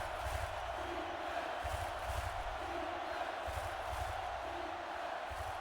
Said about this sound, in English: This Trash Pandas crowd cheering on the defense, trying to create some disruption